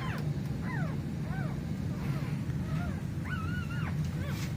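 A puppy whimpers in thin, high rising-and-falling whines, several in a row, over a steady low background rumble.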